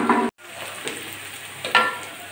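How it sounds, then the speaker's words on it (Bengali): Onion and garlic sizzle in a hot pan for a Bengali beetroot ghonto, a steady frying hiss that cuts out briefly, then returns with a few stirring bursts nearby. "পেঁয়াজ রসুনটা আমি সুন্দর করে ভেজে নিয়েছি"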